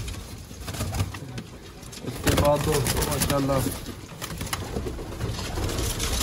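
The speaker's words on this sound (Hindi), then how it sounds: "ये जी माशाल्लाह काले मुंह वाला कबूतर।" Pigeons coo in a Sialkot pigeon loft, low throaty calls repeating through the middle of the clip beneath someone talking over them.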